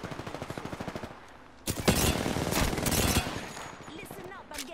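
Rapid automatic gunfire rattles in Apex Legends, first a steady burst of evenly spaced shots, then heavy overlapping blasts and crackling impacts, with a voice briefly talking.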